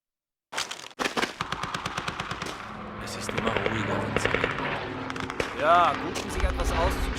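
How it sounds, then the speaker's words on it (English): Rapid automatic gunfire rattles in steady bursts in the World War II shooter Call of Duty Finest Hour, loud and sustained, mixed with battle noise, a swooping whine and a low rumbling blast near the end. "We need something to cover the sound of the rifle."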